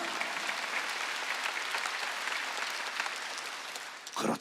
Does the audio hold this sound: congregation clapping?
yes